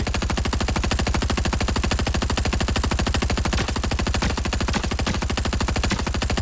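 Twin Mag SMG in Fortnite Season 2 firing in one long continuous burst, a rapid, even stream of loud close shots that lasts the whole time with no pauses.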